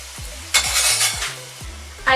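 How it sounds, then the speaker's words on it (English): Aloo paratha cooking on a hot pan, with steady sizzling and a few sharp clinks of a spatula or utensil against the pan as it is flipped and pressed, close and continuous. "Now I will flip the paratha and cook"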